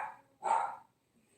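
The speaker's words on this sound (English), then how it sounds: "The one you hear barking is Charlie. That's Charlie barking." A single short dog bark, fairly faint and a little distant, with a brief softer sound just before it.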